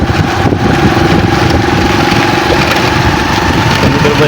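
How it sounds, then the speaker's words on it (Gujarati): A motorcycle engine idling loudly and close up, a steady low rumbling throb that continues throughout. "આપણે બાઇક સ્ટાર્ટ કરી"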